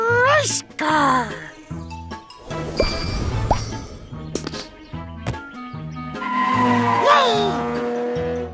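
A cartoon race car zips around with repeated squealing tire skids and revving engine whines, loud and close, interleaved with bright cartoon effects and musical tones.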